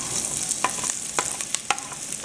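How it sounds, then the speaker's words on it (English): Garlic, onion and pimento fry in heated oil over medium heat for a Trinidadian fisherman-style stew fish, giving a steady close sizzle broken by several sharp utensil scrapes and clicks as they are stirred. "So to the oil, we're going to add some garlic,"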